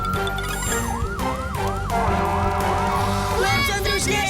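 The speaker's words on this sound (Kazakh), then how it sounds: "Көп замай өрт сөндіру қызметі келеді." A cartoon fire engine siren wails in rising and falling sweeps, loud and close, sustained over a low engine rumble for the whole stretch.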